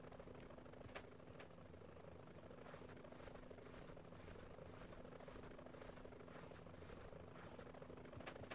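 A helicopter in the PS1 Spider-Man video game gives a steady, loud rotor drone that holds for the whole stretch with no talk.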